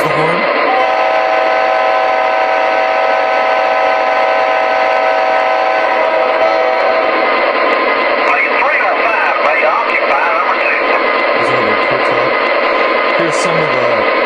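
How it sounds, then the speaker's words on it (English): A loud, sustained model train horn blast from an MTH RailKing ES44C4 locomotive sounds over continuous rumbling engine noise, with a few brief shorter tones near the end. "Okay, here's the horn."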